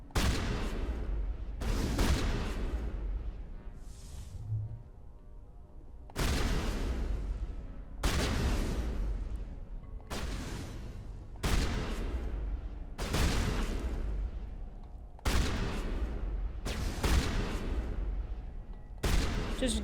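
Bursts of gunfire in the Mass Effect video game, about eight loud clusters of rapid shots separated by short pauses, with a faint voice briefly underneath.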